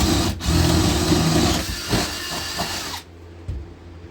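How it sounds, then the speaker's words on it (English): A power drill bores holes for PEX plumbing pipe in an abandoned cabin, giving a steady, close whirring grind with slight fluctuations before stopping abruptly and leaving a quiet room. "So I'm just going to go ahead and drill those out"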